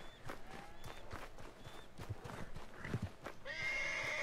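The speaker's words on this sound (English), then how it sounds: "E olha lá o cavalo pulando lá. É esse cavalo que eu vou ter que amansar." Horse in Red Dead Redemption 2 whinnying repeatedly with hoof clip-clops and thuds, the calls rising and falling over the game's action sounds, ending in a brighter sustained tone.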